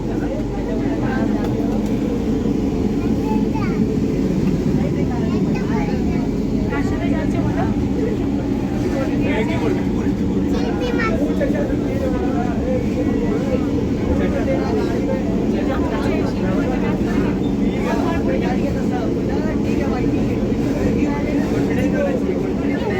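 A metro train interior carries a steady low rumble and drone from the carriage in motion, constant and moderately loud, with people talking over it.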